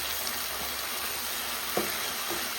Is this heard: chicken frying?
yes